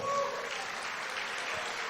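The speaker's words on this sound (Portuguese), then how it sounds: "Você pode aplaudir ao Senhor?" A church congregation at a formal service claps together in a brief, dense burst of applause that sounds steady and fairly close, with no speech over it.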